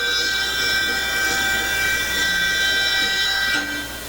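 Train sound effect in a local TV station jingle, a loud, sustained layered horn-like tone with steady harmonic hum and rumble underneath, holding for about four seconds before easing slightly at the end.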